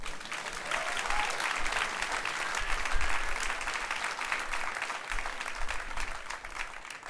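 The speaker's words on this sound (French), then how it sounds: "Bonne main d'applaudissement pour vous autres" An audience claps steadily, a dense roomful of applause that holds at an even level for several seconds.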